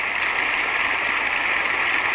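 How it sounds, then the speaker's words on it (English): A concert audience applauds a performer through a standing ovation, a dense, steady wash of clapping that holds at an even level throughout, with no voices on top. "The audience is still applauding"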